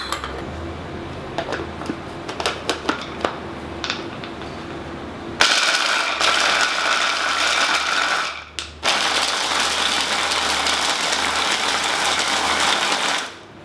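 Nuts whirring in a blender for a raw vegan comfort-food recipe, starting with rattling clatter then surging into a loud, steady motor roar that dips briefly and runs on before cutting off.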